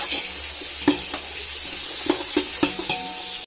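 Pulao with carrots cooks in a pan: a low, wet sizzle runs beneath a series of sharp spoon clinks and scrapes against the metal as it is stirred, with no voices.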